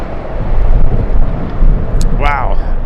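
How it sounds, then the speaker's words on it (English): A strong gust of wind buffets the microphone at an airport apron, a loud, continuous broadband roar that swells and holds, with an aircraft faintly audible in the background. "Big gust of wind coming in just now."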